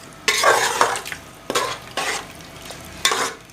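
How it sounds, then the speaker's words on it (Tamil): A spoon stirs tamarind water into sambar in a metal pot, making several distinct scraping, sloshing strokes with short pauses between, close and fairly loud. "இப்போ நம்ம புளி தண்ணியை சேர்க்க போகிறோம். இதில் சேர்த்துட்டு நல்லா மிக்ஸ் பண்ணி விடுங்க."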